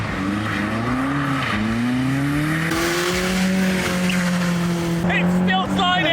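A car fitted with super thin tires slides at low speed, its tires squealing in long, wavering pitched tones over the engine drone, with people talking in the car.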